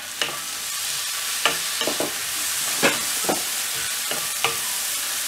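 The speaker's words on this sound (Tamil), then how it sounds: "பூண்டு ஆட் பண்ணிவிட்டேன். பூண்டு நல்லா ஃப்ரை ஆன உடனே தக்காளி ஆட் பண்ணிடலாம்." Garlic frying in a pan, a steady close sizzle broken by a handful of sharp scrapes and knocks as it is stirred at irregular intervals, with no talking.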